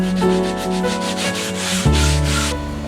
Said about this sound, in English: I sand everything, just a light sanding, except around the holes that I just made.